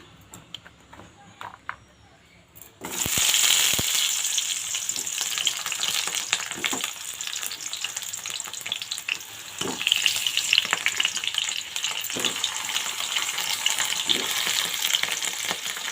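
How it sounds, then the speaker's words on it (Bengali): Taro pieces hit hot oil in a wok and break into a loud, steady sizzle that continues close by, with occasional faint clicks and stirring sounds. "এদিকে কড়াই আমি তেল দিয়ে দিয়েছি"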